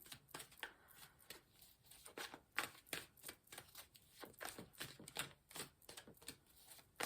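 A deck of tarot cards is riffle-shuffled repeatedly at close range, producing quick, faint flurries of crisp flapping bursts in an irregular rhythm.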